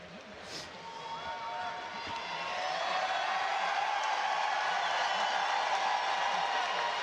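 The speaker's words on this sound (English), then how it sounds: "Crowd reacting to Coach." Crowd at a college basketball game, Houston versus Kansas, reacting to the coach, a distant steady roar of cheering and applause that swells and holds loud without speech.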